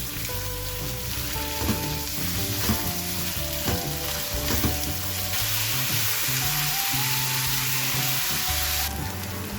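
Onions sizzling and frying in a pan with ginger and garlic for stuffed karela keema, a steady close hiss with occasional stirring scrapes over a faint background hum, no talking.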